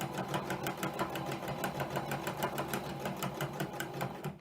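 A sewing machine stitches a quilted coaster in a fast, even mechanical rhythm, close and steady, stopping abruptly at the end.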